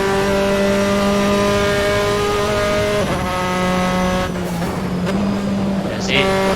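A race car in the Assetto Corsa racing game at Oulton Park gives off a loud, steady engine drone as the throttle is eased and worked in waves, with someone talking over it.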